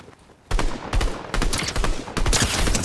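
Rapid gunfire from a solo Zero Build match of Fortnite during the 2024 Fortnitemares event: loud clustered volleys of shots fire in quick succession after a short quiet start.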